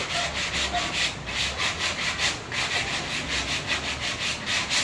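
Steady back-and-forth sanding with sandpaper, a rhythmic rasping scrape repeating about twice a second, close and continuous with no talking.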